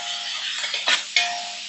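Masala being stirred and sautéed in a pan for chicken dum biryani, giving a soft steady sizzle with two sharper scraping strokes of a spoon against the pan near the end.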